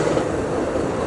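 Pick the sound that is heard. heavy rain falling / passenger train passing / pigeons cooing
passenger train passing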